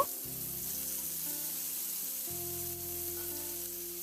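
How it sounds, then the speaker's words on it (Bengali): Pointed gourd (kakrol) coated in salt and turmeric frying in hot oil, a steady close sizzle that runs throughout with a faint tonal hum in the background and no voices. "লবণ আর হলুদ মাখালো কাঁকরোলটা তেলের মধ্যে দিয়ে খুব ভালো করে কাঁকরোলটাকে ভেজে নেব"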